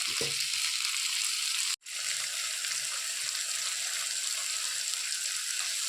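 A tomato fries in a pan for egg masala, a steady, close hiss of sizzling that carries throughout, broken by one brief silent gap.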